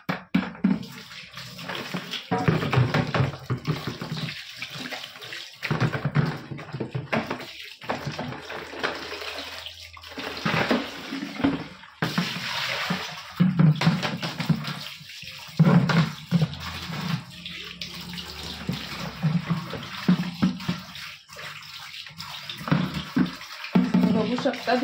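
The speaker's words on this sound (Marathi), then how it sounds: "आता तिला मी फक्त साध्या पाण्याने धुवून घेणार आहे." Plain water splashes and pours while a plastic bucket is rinsed, an irregular stream of sloshing and running-tap sounds at close range.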